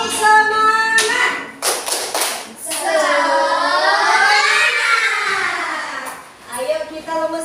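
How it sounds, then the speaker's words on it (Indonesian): Schoolchildren perform a rhythmic 'tepuk semangat' clap with bursts of sharp hand claps alongside loud singing and chanting voices, an upbeat classroom group routine heard up close. "Tepuk semangat."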